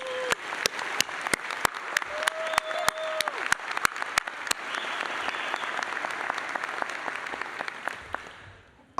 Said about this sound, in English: Dr. Howard, Dr. Zhang, let's give them a round of applause.